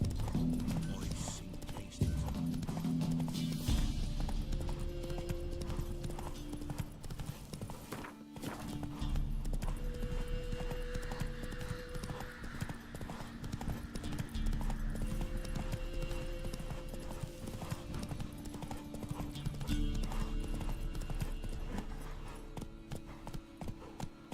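Roach, the horse in The Witcher 3: Wild Hunt, gallops with steady rhythmic clip-clop hoofbeats throughout, mixed with game ambience and a brief whinny, some voices faint beneath.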